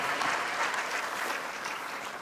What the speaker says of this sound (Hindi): एक बार तालियों बजा के अपनी मौजूदगी का